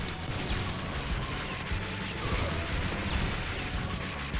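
Metal Slug bomb blasts and crashes burst through dense, continuous arcade battle noise, with heavy impacts layered over constant gunfire and explosions at steady loudness.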